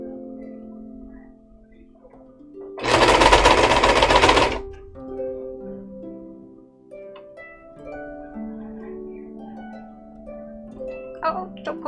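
A sewing machine stitches a cosplay costume arm in one loud, rapid mechanical run of about two seconds, rising sharply over steady tonal background music and then stopping.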